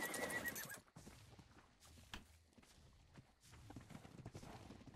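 A horse in the video game Ark whinnies loudly at the start, then its hooves clip-clop in a steady walking rhythm with scattered thuds and ambient game noise behind.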